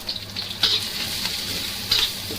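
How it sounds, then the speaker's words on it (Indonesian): Dried shrimp sizzling and frying in hot oil as carrot cake ingredients are prepared, a steady crackling hiss with two brief louder spits of spatter, close and continuous with no talk. "Setelah minyak panas, masukkan udang kering dan tirai salad."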